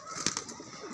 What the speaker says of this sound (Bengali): এটা পায়রা দেখো, ফুলছড়া পায়রা, কালদমা।